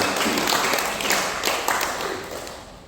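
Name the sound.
congregation applause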